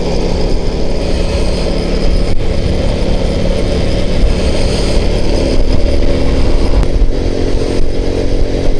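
A moped engine runs loudly and steadily close by as the rider knocks the gearbox from fourth into neutral, the drone continuing with small mechanical shifts and no talking.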